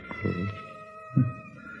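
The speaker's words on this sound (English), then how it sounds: "There's a cat." A cat meows twice in quick succession, close and clear, with a faint steady hum in the background and no talking.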